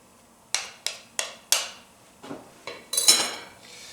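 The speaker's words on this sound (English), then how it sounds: "Scrape off my spatula here." A knife scrapes hand-kneaded beer bread dough off a spatula in a series of about eight short, sharp, evenly spaced strokes, close and fairly loud with no talk.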